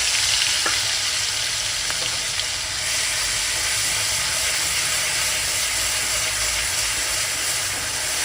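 Onion paste frying in hot oil with cumin seeds, a loud, dense, continuous sizzle close up with a few faint scraping clicks; no voices.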